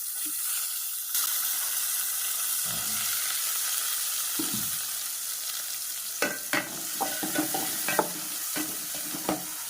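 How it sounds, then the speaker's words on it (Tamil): Onions going into hot oil for a mushroom gravy, first quiet, then a steady sizzle with a few soft thuds, followed by louder clattering stirs of a spoon against the pan near the end. "இப்போ அந்த எண்ணெய் இப்போ நல்லா சூடாகிட்டு வெங்காயத்தை போட்டுடுங்க"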